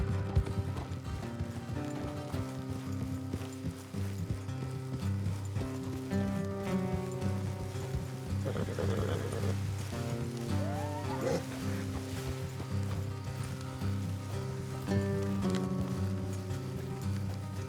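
Horses in Red Dead Redemption 2 moving along a road, a continuous clip-clop of hooves under a steady orchestral game score, with faint effects and no talk.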